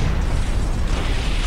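A Necron thermogenerator detonates in Warhammer 40,000 (UA mod), a dense, continuous low rumbling blast that fills the whole moment with heavy bass and noisy crackle, loud and sustained with no talk over it.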